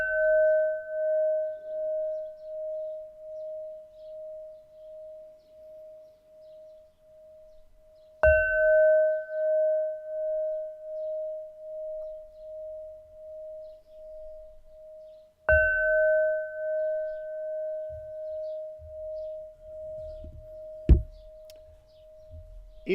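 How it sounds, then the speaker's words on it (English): Three clear bell strikes, each ringing out with a long, slowly fading tone, spaced several seconds apart, followed by a faint knock near the end. "The first bell was very clear."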